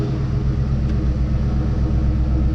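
A 2001 Ford Mustang engine idles while warming up, a steady, close, low rumble that holds even throughout with no revving.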